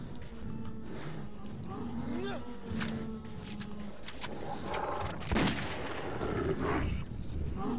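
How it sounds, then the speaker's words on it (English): Pistol shots fired at creatures in Metro 2033, a few sharp reports scattered among game sounds, with people talking throughout. "This pistol is so fucking efficient at killing these."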